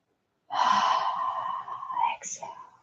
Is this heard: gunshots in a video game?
no